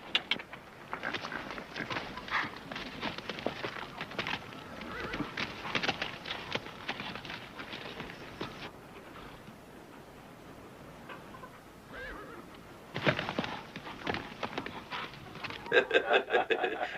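A horse neighs and its hooves clop in bursts across a long stretch, with intermittent stepping and a louder flurry near the end, set against a quiet background.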